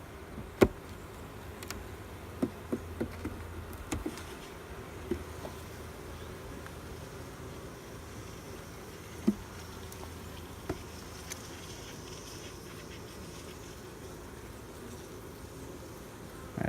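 Honeybees hum steadily around an open hive during a colony split inspection, a faint, continuous buzz with occasional close passes and light clicks of frames being handled, no talk.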